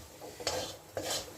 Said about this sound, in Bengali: এখন এটাকে আমি একটু ভেজে নিচ্ছি